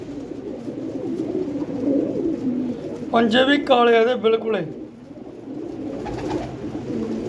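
Flying pigeons, black birds with light eyes, coo low and steadily in a pen while someone talks over them, his voice loud near the middle.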